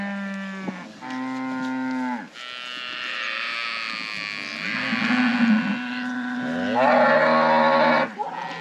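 Cattle and calves on an estancia in Paraguay lowing repeatedly while being herded on horseback, long loud moos overlapping one another, close and clear with a few calls layered on top.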